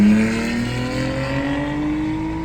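A loud car engine roars past close by, its pitch sliding upward briefly as it goes, with no voices.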